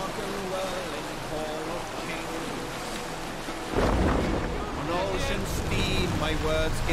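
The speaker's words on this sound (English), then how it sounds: "It's always raining when we get back" Rain in Assassin's Creed Valhalla hisses steadily throughout, with a heavier rumbling surge like thunder partway through, while people talk over it.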